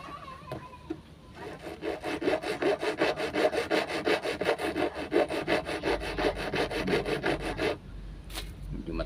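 Hand saw cutting through wood with steady back-and-forth strokes, about twenty rhythmic rasping passes, close and loud, with a short pause near the start and a brief knock after the sawing stops.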